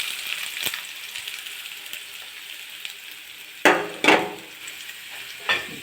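Extra onions frying in oil in a pan for egg curry, a soft steady sizzle with a few sharp clanks of a spoon stirring against the pan near the end.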